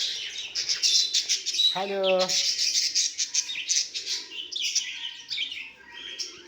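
Dense, high-pitched chirping and tweeting from many birds fills the whole stretch, with a short voice speaking briefly partway through.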